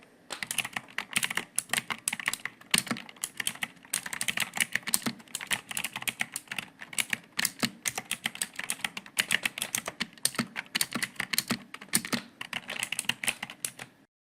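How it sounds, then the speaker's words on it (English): Steady clatter of keystrokes on a computer keyboard while an Excel formula is typed in, rapid uneven taps running continuously and close up, with no voices. "I am going to type formula."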